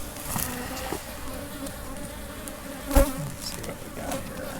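Honey bees hum steadily in a dense, continuous drone around an open hive during an autumn inspection, with a brief louder knock or clatter near the middle.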